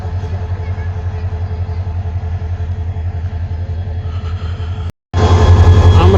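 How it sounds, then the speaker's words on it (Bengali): A train sits at Dewanganj Bazar station in Jamalpur, its low, steady rumble droning close by. A brief cut is followed by a louder, rougher roar, with voices faintly present. "আমরা এই ট্রেনে করে ব্যাক করব ঢাকার উদ্দেশ্যে।"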